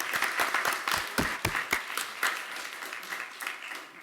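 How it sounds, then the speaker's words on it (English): An audience at a lecture breaks into steady applause of many hands to greet a speaker, loud at first and tapering off gradually. "Let's greet Hilary Banker with a round of applause."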